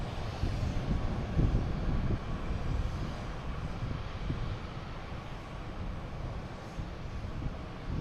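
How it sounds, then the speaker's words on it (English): A United Airlines Boeing 737 jet bound for Newark rumbles steadily at an airport, a broad low engine roar holding at moderate distance for several seconds with some wind buffeting. "United Airlines, a 737 heading to Newark"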